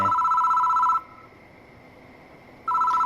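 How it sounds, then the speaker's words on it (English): A telephone rings in the horror adventure game Spirit Hunter: Death Mark, a loud electronic bell burst that stops, leaves a hushed pause, then starts again near the end. "The phone rings."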